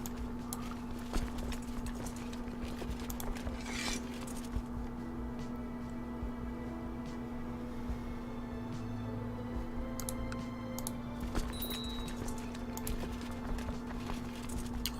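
Horse hooves clip-clop in the Crusader Kings 2 strategy game, a steady low patter that runs throughout. It sits under a constant hum and scattered clicks and stays fairly quiet.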